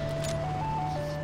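A delivery vehicle's melodic jingle from the video game PUBG plays steadily as it passes by: a chain of clear, stepping electronic tones over a low engine hum, fairly loud and with no one talking.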